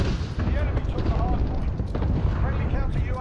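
Grenade explosions in Call of Duty Modern Warfare multiplayer, continuous rumbling blasts and booms with sharp cracks throughout, under someone talking excitedly.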